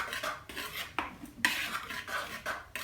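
A whisk scraping and tapping against a bowl while beer bread batter is mixed, giving steady close clinks and swishes with a few sharper knocks.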